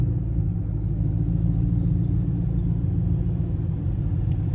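A car idles and rumbles steadily in cold weather, a continuous low, loud engine drone with a deep exhaust note and no clear pops standing out.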